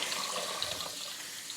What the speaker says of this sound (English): the water from our tap gets very, very hot for a reason